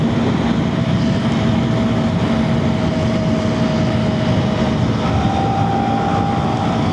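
KTM Duke 250 single-cylinder motorcycle ridden at night, its exhaust drone blending with steady, loud wind rush throughout, a faint engine tone rising slightly near the end.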